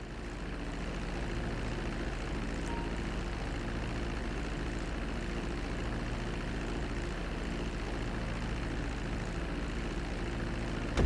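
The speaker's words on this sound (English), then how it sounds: "Now let's get the plane off the runway. Taxi over to the marked area and come to a complete stop." Airplane taxiing on a runway in Grand Theft Auto V, a steady low engine and propeller drone that holds at an even, moderate level throughout, with no voices.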